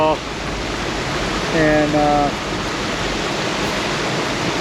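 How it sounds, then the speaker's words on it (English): A massive waterfall in the Faroe Islands sends out a steady, dense roar of rushing water close by, with a brief spoken word and a short tonal sound on top. "Sitting here at the edge of a massive waterfall"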